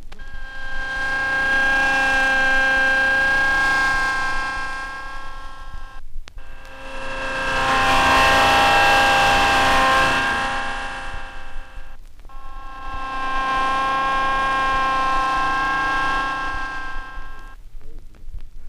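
A hydraulic pump runs with cavitation, a steady loud broadband mechanical roar with tonal whine, split into three sustained stretches by short gaps; the middle stretch sounds rougher and harsher, like bubbles collapsing in the fluid. No talking.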